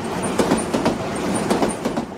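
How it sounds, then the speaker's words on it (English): A passing train in Tokyo rumbles steadily with rhythmic clickety-clack wheel beats, loud and near, with no voices. "and that is the passing train."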